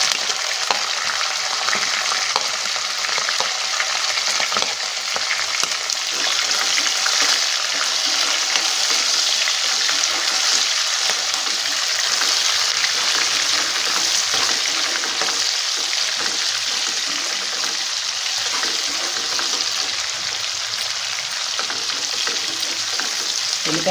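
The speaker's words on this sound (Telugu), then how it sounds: "ఉల్లిపాయ ముక్కలు కొంచెం వేగనిద్దామండి." Onion pieces and green chillies frying in a pan for cabbage curry, a loud, continuous crackling sizzle with occasional stirring scrapes, steady the whole way through with no voices.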